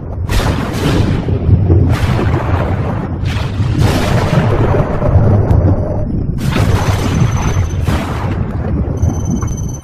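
Loud thunderstorm thunder in a promotional car-launch film: repeated deep booming rumbles with sharp crack-like bursts near the start, middle and end, rolling continuously for ten seconds.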